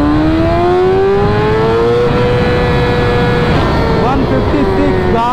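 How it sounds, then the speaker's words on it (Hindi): A car in race mode revs hard and climbs through first gear, its engine tone rising steadily and loud throughout, with a brief shift-like dip near the end. "सो गाइस अभी हम लगाते हैं रेस मोड और चेक करते हैं कि पहले गियर में कितना जाएगी मामू।"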